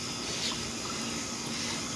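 Steady broadband rush of water pouring into a backyard pool as it fills, a constant moderate hiss with no pauses and no voices.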